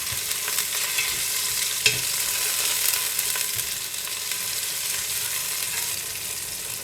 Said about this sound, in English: Give them a stir until fragrant.